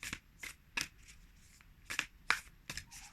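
Large, thick matte oracle cards are shuffled in quick, crisp riffles and slaps, a rapid irregular series of close, soft snaps with no talking.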